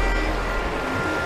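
Runoff water flows near the Mossy Cave waterfall at Bryce Canyon National Park, a steady broadband rush with a low rumble that holds evenly throughout.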